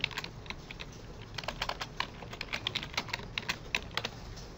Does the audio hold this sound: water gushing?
no